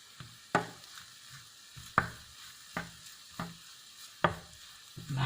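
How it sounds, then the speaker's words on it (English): Garlic is mashed and stirred in a frying pan, giving a series of about seven soft scraping knocks at a steady, unhurried rhythm over a faint sizzle, close and fairly quiet. "I'll give it a mash in the pan."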